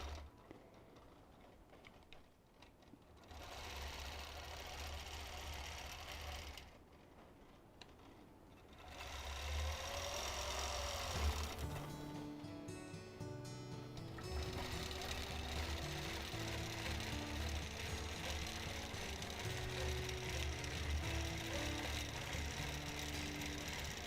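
Domestic sewing machine running steady bursts of free motion quilting on a goose block, a continuous close whirring hum with brief pauses between runs.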